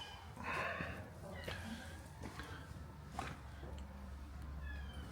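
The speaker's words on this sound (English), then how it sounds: "Oh, and it's a kitty cat." A cat meows a few times nearby, short rising calls over traffic and street noise in Roccasecca, Italy, while people talk.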